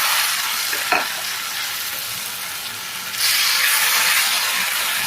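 Mushroom masala sizzling in a pan, a steady close fry that bursts into a louder, hissing roar as blended tomato paste is poured in and keeps crackling strongly, no voices.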